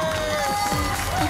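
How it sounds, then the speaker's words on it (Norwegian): Applause and cheering from a television studio audience in a music competition finale, a short steady wash of clapping and shouts with a held musical tone ringing underneath. "en stor applaus til Tore!"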